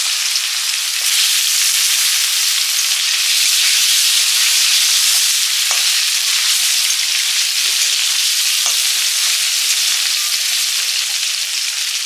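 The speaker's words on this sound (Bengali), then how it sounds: "পাঁচফোড়ন দিয়ে কাঁচা আমগুলো দিলাম" Raw mango pieces fry with five-spice in hot oil, making a loud, even, bright sizzle close up, with a few faint clicks and no voices.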